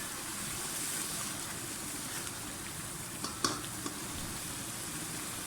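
Potato slices frying in a pan with tomato paste give a soft, even sizzle throughout, broken by a few faint clicks of a stirring spoon near the end.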